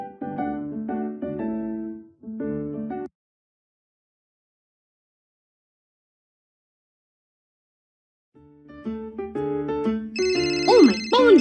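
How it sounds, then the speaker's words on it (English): A cartoon phone ringtone plays as a bright, chiming electronic melody in two short bursts. A long stretch of silence follows, then the tune returns louder with more layered tones. "Oh, my phone's ringing."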